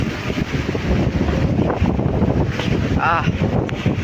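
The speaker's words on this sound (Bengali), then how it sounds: "পুরা জোরে বৃষ্টি নেমে পড়ছে গাইস।" Heavy rain sweeps in on a strong wind by a riverbank, a loud, rough roar of gusts buffeting the microphone, with a brief high whistle-like sweep near the end.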